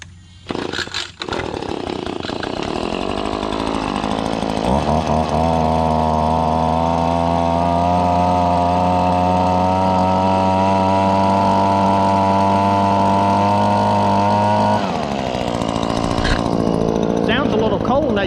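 Small two-stroke PB2520 engine, newly bought, cranked and then started: a short pull-start rattle, then a loud steady buzzing run for about ten seconds, throttled back to a rough idle at the end.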